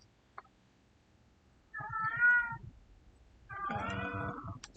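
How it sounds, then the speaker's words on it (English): A pet cat meows twice in clear, drawn-out cries, fairly close in an otherwise quiet room, with a faint click beforehand. "My apologies about my cat, who I think you can hear in the background."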